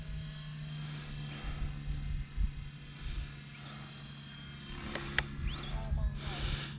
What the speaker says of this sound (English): We got the heli upside down.